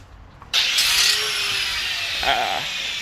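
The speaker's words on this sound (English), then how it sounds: "He's cutting stuff now because he can't quite get one of the pieces in half" A power tool cuts through a piece of car exhaust pipe during an Mk2 Jetta diesel swap, a loud steady abrasive whine kicking in after a quiet start and grinding on without pause.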